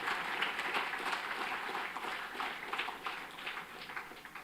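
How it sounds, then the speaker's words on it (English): Convocation audience applauding dual degree BTech MTech awardees at the IIT Madras Aerospace Engineering ceremony, a steady wash of many hands clapping at moderate, distant level throughout. "a round of applause for all of our BTech MTech dual degree awardees"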